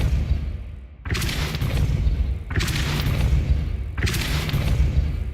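Depulso spell blasts in Hogwarts Legacy, three heavy booming bursts with noisy rushing tails at even intervals, loud and close over a constant low game rumble.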